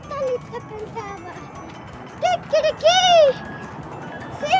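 A voice imitates a rooster with a short series of clipped calls and then one longer rising crow, following a line of a children's song.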